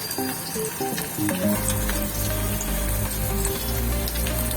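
Garlic hits hot oil for tomato thokku and starts a steady sizzle. The frying stays close and constant under some faint background music, with no talk.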